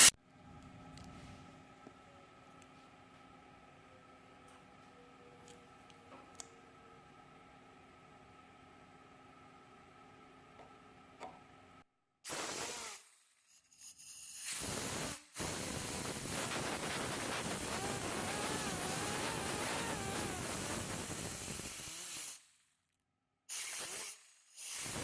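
A pneumatic air grinder running after reassembly: after a faint quiet stretch, a loud steady hissing air rush starts abruptly, cuts out briefly, resumes for several seconds, then stops and restarts near the end.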